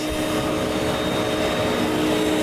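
A vacuum system runs steadily to dry out its hose, giving a loud, constant whooshing hum with a faint high whine, continuous and alone throughout.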